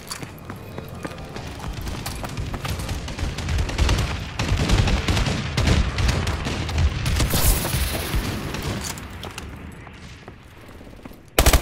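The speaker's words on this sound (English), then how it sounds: "Friendly bombing run incoming." A bombing run in Call of Duty: Advanced Warfare, Exo Survival on the Detroit map, brings dense, continuous rolls of explosions and gunfire that swell loud in the middle and fade toward the end.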